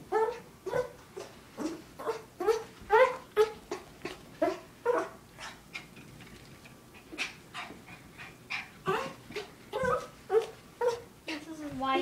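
A dog just out of a bath makes a run of short whining, yelping vocal noises in quick bursts, fairly close, with brief pauses between groups.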